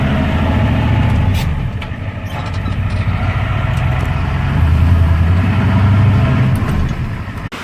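A pickup truck engine idles steadily up close with a noisy throw-out bearing, a loud continuous rumble carrying a rough, whirring drone that swells slightly midway.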